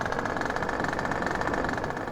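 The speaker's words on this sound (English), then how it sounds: "since the Venom replaces the PCJ 600, instead of it sounding like this beast of a motorcycle, it sounds like a crotch rocket" Venom motorcycle in a GTA mod replacing the PCJ 600, its engine giving a steady, buzzy, high-revving sportbike drone, close and continuous, sounding like a crotch rocket rather than a heavy cruiser, with no talk.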